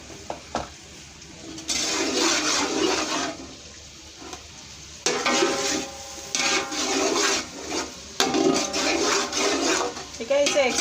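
A spoon works through beef pulao with black pepper in a pot, giving loud, close bursts of scraping and stirring separated by short quiet pauses.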